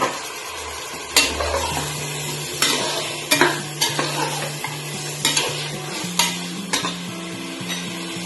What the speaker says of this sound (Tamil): இந்த கறிய இஞ்சி பூண்டு வதங்கினோடனே இந்த கறியை நான் ஆட் பண்ணுதேன்